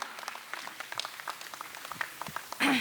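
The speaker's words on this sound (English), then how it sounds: "Let's give him a big round of applause for doing a great job." Scattered applause from an audience at a Consulate General of India celebration at Delhi Plaza, Chicago: a faint, loose patter of many hands that ends in a sudden loud burst near the microphone.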